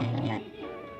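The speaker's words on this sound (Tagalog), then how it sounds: "At meow yung sabi." A short cat meow, close and fairly soft, drawn out briefly with a rising then falling tone.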